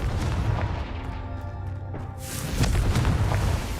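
A Confringo blast spell bursts in Hogwarts Legacy, deep booming impacts and crackling blasts rolling close and loud, swelling again into a second heavy explosion toward the end.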